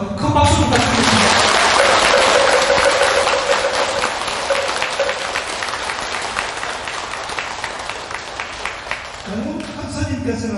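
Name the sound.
applause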